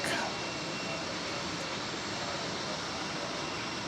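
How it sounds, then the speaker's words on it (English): Jet engine noise surrounds a Boeing 747 during pushback at DFW Airport, a steady, fairly quiet broadband roar with a faint high whine, and a voice speaks over it. "you see there a Boeing 747 being pushed back"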